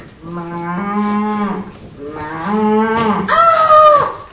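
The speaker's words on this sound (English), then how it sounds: "It's a cow." A cow moos three times in long, loud, drawn-out calls, the last one rising higher and more strained, with no other sounds around them.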